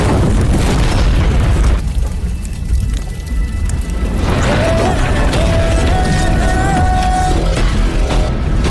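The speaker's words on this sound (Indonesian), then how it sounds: "gudang meledak" A warehouse explosion: a loud, deep boom rumbles and roars continuously, with a dense low-end blast fading into sustained rumbling and faint tonal whines.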